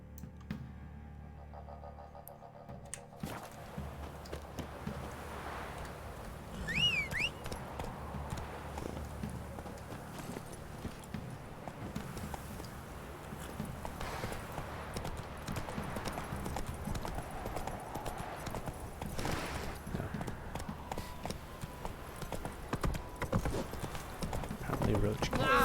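Roach, the horse in The Witcher 3 video game, clip-clopping along a path with steady rhythmic hooves, plus a brief whinny, under someone talking over the gameplay.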